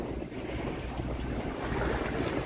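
Strong wind at the seaside roars against the microphone in loud, continuous buffeting gusts, with a rushing, surf-like wash beneath it.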